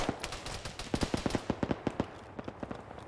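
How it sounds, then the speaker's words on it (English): Machine gun fire in a military combat video game, heard as a steady run of rapid, evenly spaced shots that slows into a few short bursts, fairly close and with no talk over it. "Yeah, I'm shooting at him."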